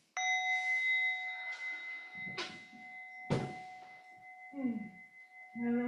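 A meditation bell is struck once at a sangha gathering, ringing out with a bright, sustained tone that slowly fades, while soft clunks and shuffling sounds of people rising break in underneath.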